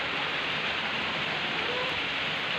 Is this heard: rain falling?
yes